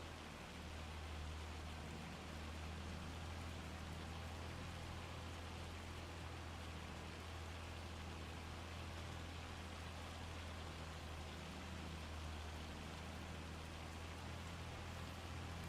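Steady rain with hail pelting down in the farming video game Farming Simulator 25, a dense, even hiss that stays constant throughout over a low rumbling hum, with no talk.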